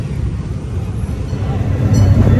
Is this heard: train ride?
yes